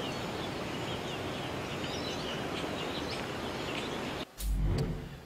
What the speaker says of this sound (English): Just some birds and wind.